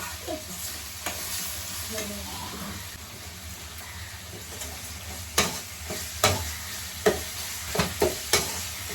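Tomatoes sautéing in a pan make a soft steady sizzle, broken by a quickening series of sharp spoon scrapes and knocks against the pan near the end, with no voices.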